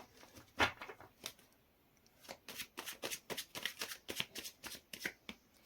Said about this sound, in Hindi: पहले मैं 11 कार्ड्स निकाल लेती हूँ